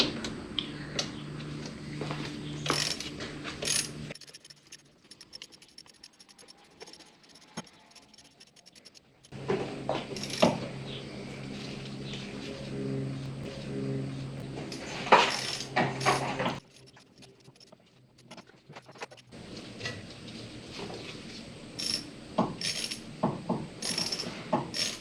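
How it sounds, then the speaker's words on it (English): Ratchet tightening the wheel bolts on a Subaru during a front wheel bearing job, heard as repeated close clicking bursts and metallic tool clatter with short quiet gaps between them. "tighten those by hand or by ratchet"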